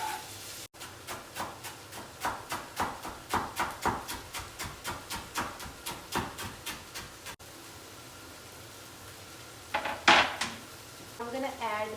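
Tomatoes tipped into a sizzling pan for baingan bharta, with a rapid series of metal spoon scrapes and clinks against the pan, then steady frying hiss and a few brief knocks.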